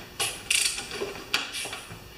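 A hand ratchet tightens the head gasket bolts on an Ariens snowblower engine: a few short bursts of quick metallic clicking, close up and alone, with brief pauses between strokes.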